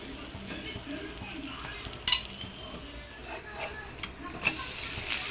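Paruppu adai frying in oil on a pan, a soft steady sizzle running throughout with occasional clinks of utensils and a few sharper scrapes, heard close and without talk.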